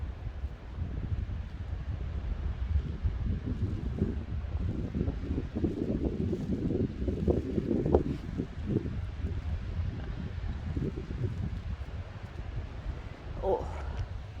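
Wind gusts buffet the microphone on a dark, rainy and snowy night walk, a loud, continuous low rumble that swells and fades while a person talks at times.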